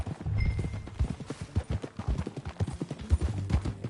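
Horse hooves in Red Dead Redemption 2 clopping at a walking pace, a steady run of close, fairly loud hoofbeats with a brief soft snort at the start.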